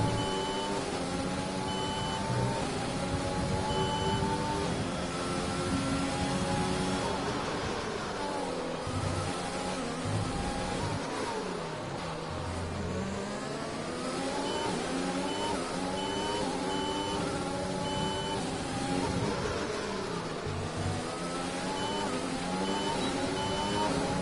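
Formula 1 race car engine in F1 2020 at the Singapore Grand Prix, a high-pitched screaming whine that climbs steadily through the gears, with quick drops at each shift and repeated rising sweeps, continuous and unbroken by any voice.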